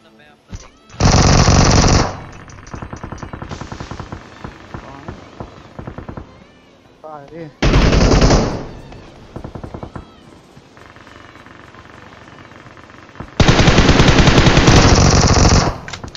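Loud bursts of automatic gunfire from a gun in a mobile battle game, three long sustained volleys broken by rapid short rattling shots and game effects, with no talk in between.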